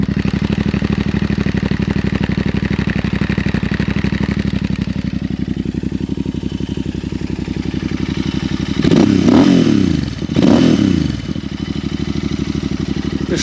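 Royal Enfield 650 Interceptor parallel-twin engine and exhaust idling close by with a steady, loud, rapid thumping pulse, then two brief throttle blips that rev it up before it settles back.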